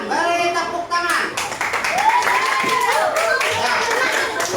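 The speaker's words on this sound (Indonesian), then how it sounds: "Beri tepuk tangan" Children in a classroom clap together in a short burst of applause. Voices chatter and call out over and after the clapping.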